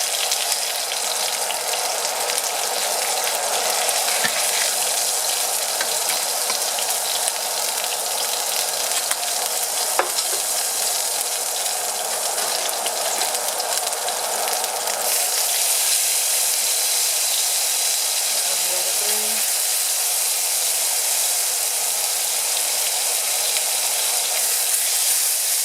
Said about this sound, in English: Then I'm going to put the vegetables in the same pan so we can make the gravy and stuff like that.